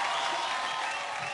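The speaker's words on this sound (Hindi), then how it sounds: "जोर दा तालियां" A dense burst of audience clapping at a televised awards show, loud and steady throughout the brief moment with no pause.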